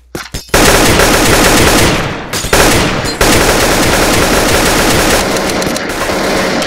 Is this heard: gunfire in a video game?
yes